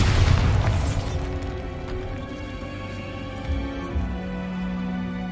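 A Bombarda blasting spell goes off in the video game Hogwarts Legacy, a loud booming explosion at the start that rolls into a long rumbling decay with small bursts of debris, no talk.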